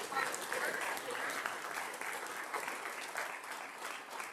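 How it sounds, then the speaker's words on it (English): An audience at a real estate investor meeting applauds, a dense sustained clapping at moderate volume that tapers slightly toward the end. "So let's give Michael a warm round of applause"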